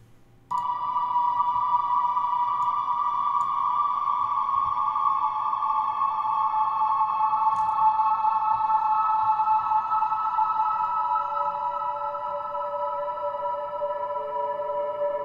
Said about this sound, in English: you put a reverb on it and then you turn the dry signal down and the wet signal up